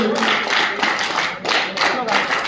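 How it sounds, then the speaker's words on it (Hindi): Audience clapping at a youth welcome ceremony at AICUF Ashram, Shahpura, Bhopal: dense, steady applause from many hands filling the room, swelling in waves, with a voice faintly heard underneath. "ताली बजाते रहेंगे।"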